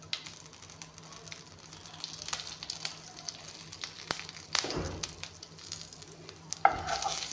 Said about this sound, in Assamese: তেজপাতখিনি অলপমান ভাজি লৈ ল'ম।